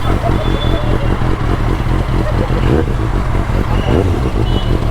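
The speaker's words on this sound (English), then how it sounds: "So that's the sound of the Arrow Pro Race." A motorcycle fitted with an Arrow Pro Race exhaust idles and blips nearby with a loud, throbbing, rapid pulse and clattering mechanical texture, steady throughout.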